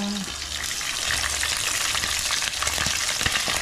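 Tulingan fish frying in a pan, giving a steady, close sizzle that holds throughout with small crackles and a few sharper pops, no voices over it.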